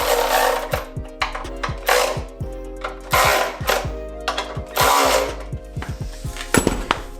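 A ratchet tightens a bolt on a 500+hp RB25 engine build, producing sharp clicking bursts in quick irregular runs, separated by short pauses and a metallic ringing hum close to the microphone.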